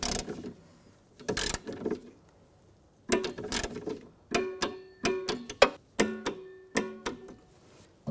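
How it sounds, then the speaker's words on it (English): A ratcheting torque wrench tightens window regulator bolts on a 2006-2010 BMW 550i, giving bursts of rapid metallic clicks followed by a series of sharp, evenly spaced ratchet ticks, close and clear with no talking. "we'll torque these to 70 inch-pounds"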